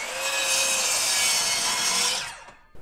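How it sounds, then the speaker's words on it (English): A miter saw slices through wood boards for a rustic farmhouse sofa table, a loud, close, continuous whining cut lasting about two seconds before the blade spins down and stops abruptly. "Now we're going to take them over to the miter saw and get them to the correct length."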